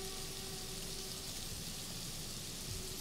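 Steady rain pouring in the video game A Plague Tale, a soft continuous hiss of drops on surfaces with a faint low hum beneath, even and unbroken throughout.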